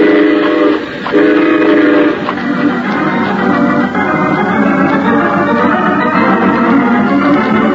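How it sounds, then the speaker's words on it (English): A train pulls into a station, opening with two loud horn blasts that give way to a continuous heavy rumble and rattle of cars rolling close by. "Let's be sure we're on that train when it pulls up"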